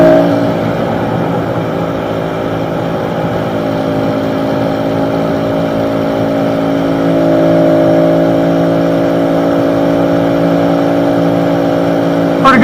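A pit bike engine held at a high, steady rev during a wheelie, a loud continuous buzzing whine close by that swells slightly near the end.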